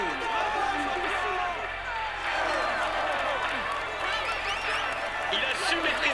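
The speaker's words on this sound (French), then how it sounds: "Applaudissez-le bien fort." Crowd cheering and applause for the stage winner at the finish of a Tour de France 2020 video game sprint, a steady dense roar of clapping and voices throughout, with commentary over it.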